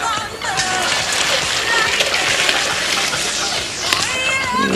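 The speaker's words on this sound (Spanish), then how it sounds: "Vamos a retirar primero el exceso de agua caliente antes de terminar de cernir" Hot pasta water pours and splashes through a strainer, a steady loud rushing stream of water that continues throughout.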